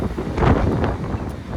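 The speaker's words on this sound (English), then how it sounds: "And it's so windy here." Wind buffets the microphone in a steady low rumble with gusty swells, with no other clear sounds.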